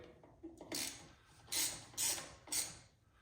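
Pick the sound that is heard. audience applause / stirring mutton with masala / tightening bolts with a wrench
tightening bolts with a wrench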